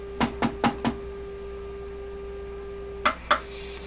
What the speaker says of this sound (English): It's me giving it the knock test,